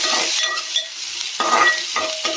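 Chopped onion and cumin seeds fry in oil in a pan with a close, loud sizzle that swells and drops in bursts as the pieces are stirred around.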